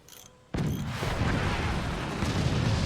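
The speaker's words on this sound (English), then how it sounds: "cannon shot, hitting the doors" A cannon shot in the physics-based RTS game Forts, hitting a fort's doors: a sudden loud boom after a brief quiet start, followed by sustained dense rumbling and crackling impact noise, with no talk.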